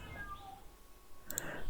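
A cat meows once, short and fairly faint, over a steady background hum.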